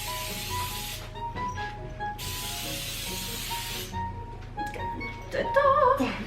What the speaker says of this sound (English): we're just going to use a little spray oil on our cookie sheet